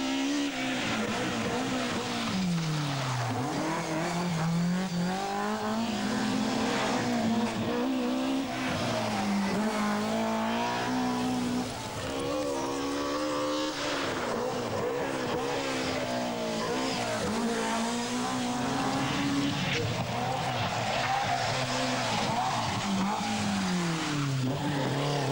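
A rally car is driven hard at the 1988 Manx Rally, the engine revving high and rising and falling through the gears for a long stretch, with tires squealing through the corners.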